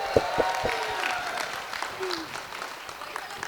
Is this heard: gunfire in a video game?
no